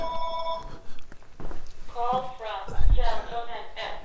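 An old-style telephone bell rings in steady repeated bursts at the start, fairly loud and close. Household sounds follow, and a voice talks over them.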